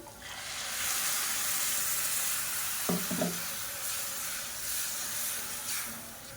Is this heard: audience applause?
no